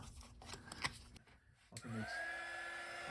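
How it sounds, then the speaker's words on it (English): Hot air heat tool blowing on glued keyboard flex cable adhesive inside an iBook G3 Clamshell chassis, a steady close airy whoosh starting after a few quiet handling clicks and continuing evenly to the end. "So I am applying some heat here"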